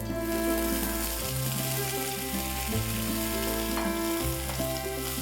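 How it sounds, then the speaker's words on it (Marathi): Half a kilo of shelled green peas fries in a pan with green chillies and curry leaves, a close, loud continuous sizzle with occasional stirring scrapes. "आता ह्यात आपण अर्धा किलो सोललेला हिरवा वाटाणा घालून घेऊया।"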